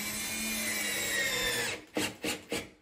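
A power drill drives drywall screws into a wall beside a stairway, a sustained whirring run followed by three short, sharp bursts as the screws seat, close and clear with no voices.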